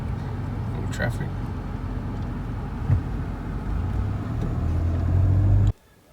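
Road traffic passes on a South Australian roadside, a steady rumbling engine wash that swells toward the end before cutting off abruptly, with talking nearby.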